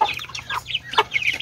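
Several chickens cluck in short, choppy bursts, close by and fairly clear, with a few sharp higher calls mixed in.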